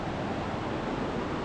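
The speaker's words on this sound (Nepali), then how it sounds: "हेर्न सक्नुहुन्छ सलल पानी बगिरहेछ" Water flows steadily beside a mountain trail on the Panch Pokhari trek in Nepal, a constant broadband rush with no breaks and no voices, moderately loud and close.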